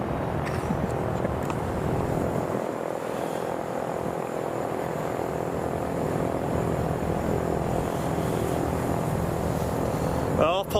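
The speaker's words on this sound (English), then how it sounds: "That's a plane taxiing out for" A propeller airplane taxis out at Boeing Field in Seattle, its engine a loud, steady droning roar that holds throughout with a slight swell near the end.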